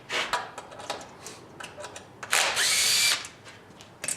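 A cordless drill fitted with a screwdriver attachment loosening screws on a pump during repair, giving short bursts of whirring and clicking, then one longer, louder high-pitched spin up close.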